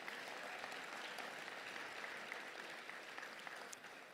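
Audience at an award ceremony applauding in a steady, dense wash of many hands clapping, fairly distant and even in level throughout, with no voices over it.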